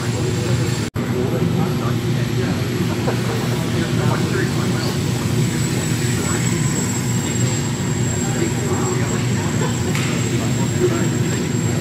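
A radio-controlled model airplane flies at an indoor meet in Chilliwack, giving off a steady, loud buzzing drone throughout with a sharp click near the start, while people chat nearby.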